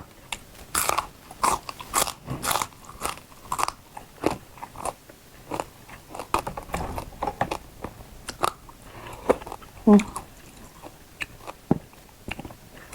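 Frog bones crunched and chewed from a hot soup, close and loud, with irregular bursts of crisp crackling bites repeating steadily over the whole stretch, no talk.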